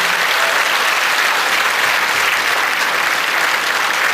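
Sustained, even applause from a concert audience in Bergerac for the opening act Thomas Hernandez, a thick wash of many hands clapping without letup.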